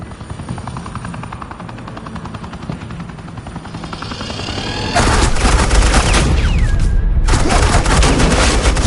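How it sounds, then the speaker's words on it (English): Suppressing fire in a Batman video game: dense automatic gunfire and heavy booms that roar suddenly louder halfway through and carry on as a sustained loud barrage, with no talk. "suppressing fire"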